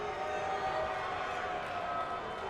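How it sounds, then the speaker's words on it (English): A virtual arena crowd in the WWE 2K22 wrestling video game gives off a steady, even roar of disapproval that carries on without a break. "Crowd booing here."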